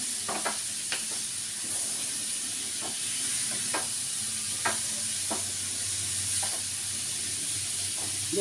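Pieces of nutmeg fruit are sautéed in oil in a pan, giving a steady faint sizzle broken by occasional scraping taps of the stirring spoon.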